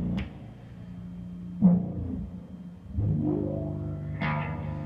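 Bass guitar run through a resonant filter placed after the gain stage, several plucked notes each opening with a bright swept resonance that fades into a sustained, slightly distorted low tone.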